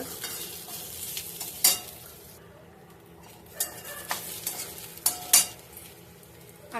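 Onion stirred and roasted in a pan gives a soft, steady sizzle with several louder scraping clinks of a spoon against the metal, close by and without talk.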